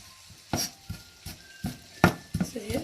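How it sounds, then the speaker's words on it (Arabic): Onions cooking in a pan for a tajine are stirred in short, separate scraping strokes, about half a dozen in under three seconds, close and fairly soft over a faint sizzle. "البصل خصو يتشحر مزيان"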